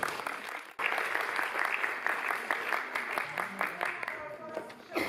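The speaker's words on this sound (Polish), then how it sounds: "Brawa kochani" A crowd claps at the opening of a Polish event, the applause starting abruptly after a brief pause and continuing as a lively, uneven patter, with voices talking over it.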